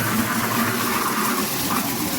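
Water runs steadily from a tap indoors, a continuous close hiss with no pauses and no talking.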